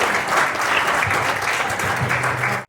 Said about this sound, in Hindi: एक बार इनके लिए ताली बजाइए